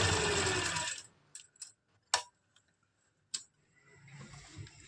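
An Afghani salwar is sewn on a sewing machine: a dense burst of whirring stitching for about a second, then several sharp separate ticks and clicks, and the motor starting up softly again at the end.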